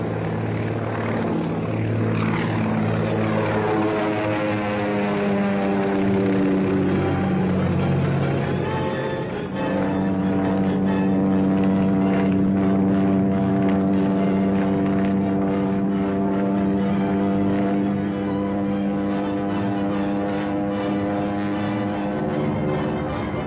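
A single-seater propeller plane engine drones steadily and loudly, its pitch sliding and then settling into a sustained harmonic hum as it runs up close by.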